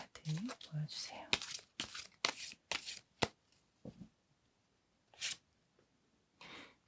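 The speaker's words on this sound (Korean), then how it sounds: "두 장의 카드를 뽑아서 알아보도록 하겠습니다" Tarot cards are shuffled and drawn from a deck, giving a run of short papery riffles and slaps in quick bursts, then sparser single card sounds with pauses between them. No one speaks over them.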